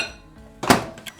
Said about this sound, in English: let's get this in the microwave, give it its 30 seconds.